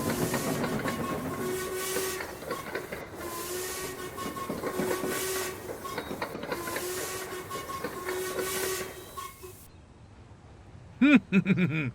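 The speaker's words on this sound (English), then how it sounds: "interrupted by a booming whistle in the distance" A steam train whistle sounds long and steady over hissing steam and rail rumble, then cuts off before a short, sharp final toot.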